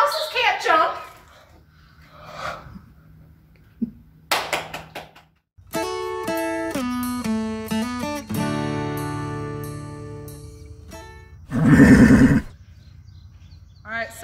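A horse neighs loudly near the end after a stretch of tonal music and scattered knocks, the whinny sharp and close.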